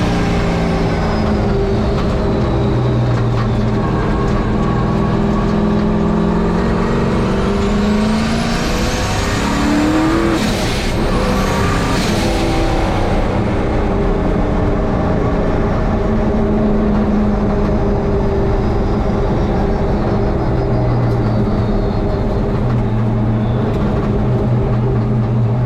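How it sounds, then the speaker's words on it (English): Turbocharged engine of a 1951 Chevy race truck fitted with an 80mm VS Racing ball-bearing billet-wheel turbo, droning loud and continuous, with a sharp sweeping whine and roar swelling partway through as it passes close. "the turbo I got on here right now is a 80mm VS Racing ball bearing billet wheel, capable of 1300 horsepower"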